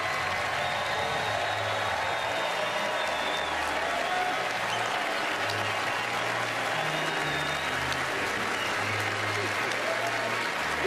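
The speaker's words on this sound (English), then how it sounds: "Everybody, please join me in giving Meryl Streep a totally undeserved round of applause" Loud audience applause for Meryl Streep fills a large awards-show hall, a thick continuous roar of clapping with crowd murmur and voices underneath, holding steady throughout.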